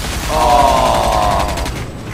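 Loud, sustained burst of rapid video-game gunfire that holds steady for over a second, then trails off.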